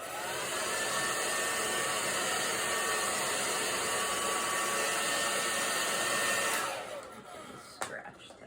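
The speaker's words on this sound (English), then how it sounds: "I think I'll go ahead and dry this." A hair dryer blows over a watercolor painting with a steady, close, loud whoosh and whine for about six and a half seconds, then switches off and leaves a few soft clicks.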